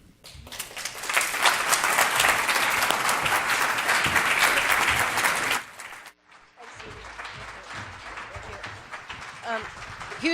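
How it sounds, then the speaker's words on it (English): A conference audience applauds six presenters after a Pecha Kucha session, loud dense clapping from a crowd that runs steadily for several seconds, then cuts off and drops to a softer room with some talk. "Huge round of applause to our 6 speakers"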